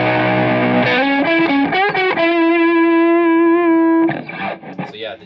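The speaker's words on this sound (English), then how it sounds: "the JHS Angry Charlie is more of like a distortion. It's a very high gain." An electric guitar runs through the high-gain JHS Angry Charlie distortion side of a dual overdrive/distortion pedal, playing a few saturated notes that slide up into a long sustained buzzing tone, then choppier muted picking.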